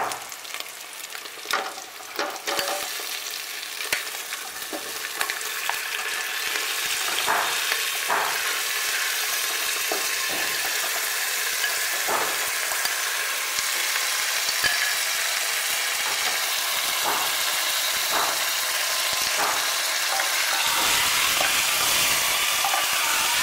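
Mutton marinated in yogurt hits a hot pan and fries with a bright, steady sizzle that grows fuller after a few seconds, broken by occasional spoon clinks and stirring scrapes, with no talking.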